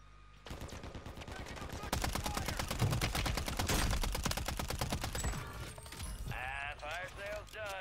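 Rapid gunfire bursts from Call of Duty Warzone, a dense stretch of automatic weapon shots with sharp repeated reports, followed by swooping electronic effects near the end; voices occur amid the shooting.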